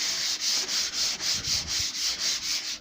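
120-grit sandpaper rubs back and forth over a homemade hollow-core shelf unit, giving a close, regular scratchy swish of about ten even strokes with no voices.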